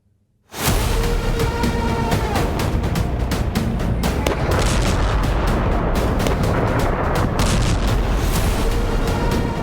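Explosions in Kyiv during a missile and drone attack on the Ukrainian capital: after a brief quiet start, a loud, unbroken barrage of dense booms and sharp cracks rolls on without pause, with no voices.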